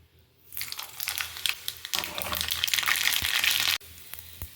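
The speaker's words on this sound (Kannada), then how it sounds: "ಬರೀ ಸಿಂಪಲ್ಲಾಗಿ ಒಂದು ಜೀರಿಗೆ ಮತ್ತು ಸಾಸಿವೆ ಹಾಕಿ ಒಗ್ಗರಣೆ ಮಾಡಿದರೆ ಸಾಕು" Cumin and mustard seeds crackle and sizzle in hot oil for a tempering, a dense spitting hiss that starts abruptly, holds steady and then drops back sharply.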